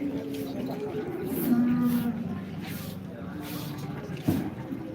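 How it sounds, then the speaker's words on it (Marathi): A farmer's cow at the Modnimb cattle market lows once in a drawn-out moo amid the steady murmur of the crowded bazaar, with a brief thump near the end. "आता शेतकऱ्याची गाय आली बघा बाजारात"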